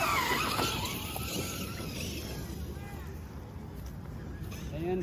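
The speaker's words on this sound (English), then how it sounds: "first rip of the Traxxas Haas" A Traxxas Hoss 4x4 RC car drives nearby with a continuous high-pitched motor whine and some tire noise, steady and fairly loud from start to finish, with no talking.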